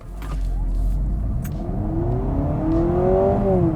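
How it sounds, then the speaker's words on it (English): 2025 Honda Civic Sport Touring Hybrid floored from a standstill: a loud, close engine whir climbs steadily in pitch with a slight step like a simulated gear change, heard alone. "if you just kind of floor it from a standstill,"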